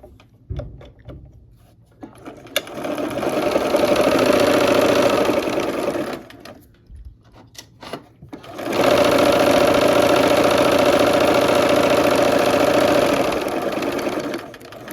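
A sewing machine runs in two long bursts of steady, rapid stitching through quilt fabric, slowing near the pins, pausing briefly between bursts with a few soft clicks.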